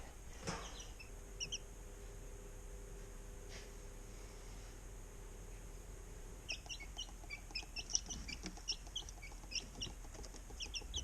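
Chickens cluck and chirp in short bursts, becoming busier toward the end, over a quiet steady background.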